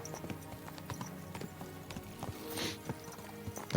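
Horse hooves clip-clopping in the medieval game Kingdom Come: Deliverance II, a brisk, even rhythm of close hoof beats over soft game ambience.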